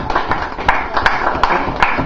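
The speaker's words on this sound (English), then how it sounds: "I'll start a little bit of a clap, just a bit of a clap" An audience at an orc-themed stand-up comedy show claps hands steadily and evenly, a close, moderately loud patter with no voices over it.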